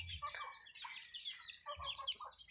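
Bantam chickens and small chicks cluck and cheep close by in quick, irregular bursts, with the high peeping of chicks over a few low clucks, all faint.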